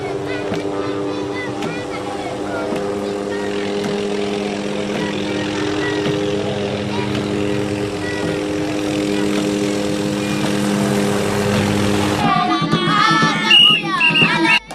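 Steady droning rotor and engine hum of a helicopter, continuous and fairly close, with a sharper burst of noise near the end.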